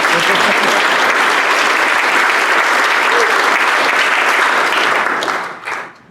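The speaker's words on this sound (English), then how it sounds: "You can clap for that." Sustained applause from an audience at a Rotary Club luncheon meeting, dense and loud for about five seconds before tapering off quickly at the end.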